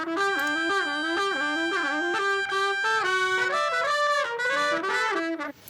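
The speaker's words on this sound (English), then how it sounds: "you feel like there are a lot of trumpets playing together at the same time when it's only one trumpet doing 3 takes" Three stacked trumpet takes of one melodic line, spread wide across left and right, giving a full section-like brass sound that plays continuously and loud, with no talking.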